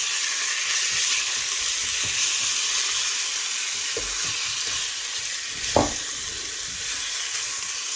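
Chicken frying in butter in a pan, giving a steady, close, hissing sizzle throughout with a couple of brief knocks as pieces shift.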